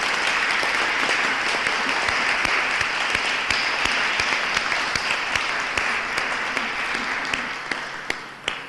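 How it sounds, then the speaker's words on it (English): An afternoon audience applauds steadily after a spoken-word performance, a dense wash of clapping hands that holds at full strength for several seconds before thinning out at the very end. "Let's have one more round of applause for everybody and their special gifts this afternoon."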